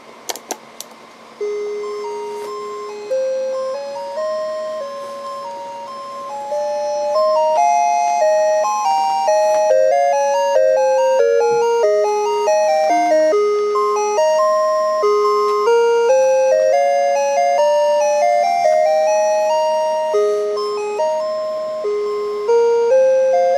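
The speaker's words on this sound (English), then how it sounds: "set the alarm to on and then move the uh, alarm time back here until it trips" Alarm of a circa-1980 Sony ICF-A10W FM/AM clock radio, made in Japan, sounding alone as a bright electronic chime playing a steady looping melody of stepped tones that starts after a few clicks and continues loud and unbroken.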